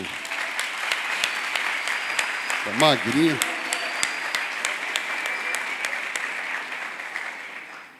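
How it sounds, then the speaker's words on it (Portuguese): A church congregation gives a warm round of applause, steady clapping from a crowd with individual claps standing out, while someone speaks briefly over it partway through. "Salva de palmas para ele"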